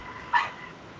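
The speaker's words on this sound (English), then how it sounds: "as my dog starts barking up a storm" A single short dog bark, fairly faint and slightly distant, standing alone over a quiet room background.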